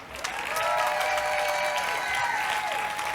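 An outdoor crowd at a recovery walk event clapping their hands, a steady wash of applause with a few louder individual claps and some voices calling out over it.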